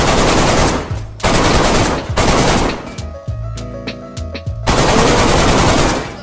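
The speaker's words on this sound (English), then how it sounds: "I'm gonna clear with this AK because I don't want to use it." Sustained automatic AK rifle fire in the survival game DayZ, loud and close, in several long bursts separated by short pauses and scattered single shots, with no talk over it.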